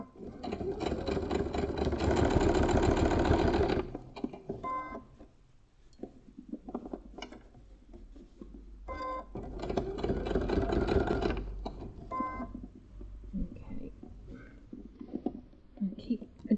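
A sewing machine runs in two close bursts while stitching fabric for a food mixer cover, whirring steadily for a few seconds each time, with quiet handling sounds and pauses in between.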